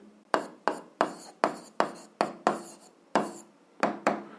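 A pen scratches across paper during a seventh-grade algebra exercise, about ten distinct close strokes in an uneven rhythm with short pauses between them, with no voices.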